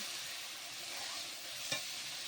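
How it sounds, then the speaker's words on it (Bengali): Chopped onions and garlic fry in oil in a pan for a goat meat and chana dal dish, giving a steady close sizzling hiss with one brief clink partway through. "দিয়ে দেবো পেঁয়াজ কুচি, দিয়ে এটা ভালোভাবে ভেজে নেব।"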